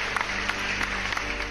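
Steady applause from an audience: many hands clapping in a dense, even patter that stays fairly quiet and unbroken throughout.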